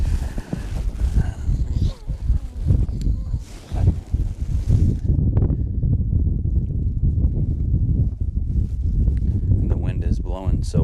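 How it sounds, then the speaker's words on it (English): Wind rumbles in low gusts against the microphone throughout, steady and buffeting, with a voice talking over it. "the wind is blowing so hard"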